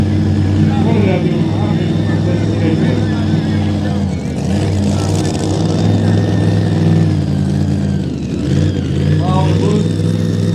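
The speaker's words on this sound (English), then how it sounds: "I knew I heard that exhaust." A pulling truck's engine with side exhaust roars loud and sustained at a truck and tractor pull, revs rising and falling in long waves, with a brief dip midway; a voice talks over the din.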